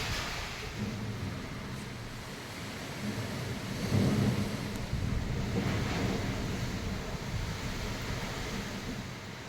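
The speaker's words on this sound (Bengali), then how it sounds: "সকাল থেকে এতটাও বৃষ্টি হয়নি এখন যা হচ্ছে" Steady heavy rain with gusting wind from Cyclone Remal roaring across the microphone, a continuous broadband wash that swells louder around the middle.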